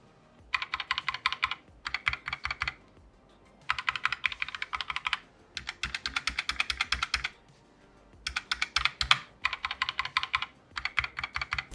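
Someone types on a Moonlander ergonomic keyboard, with quick bursts of close, crisp key clicks separated by brief pauses.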